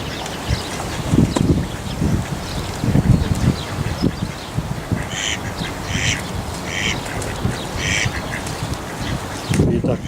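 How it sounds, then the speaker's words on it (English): Ducks squabble on a river, with repeated harsh quacks bursting out in clusters over steady wind and water noise, fairly close and loud. "Not sure what's going on here between the ducks."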